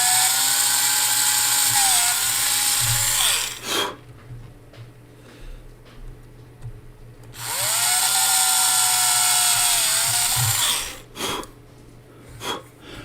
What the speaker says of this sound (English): the drill is really tired